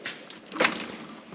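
A heavy drawer on an Icon tool box slides open with a brief rolling, scraping rush of metal, fairly close and alone.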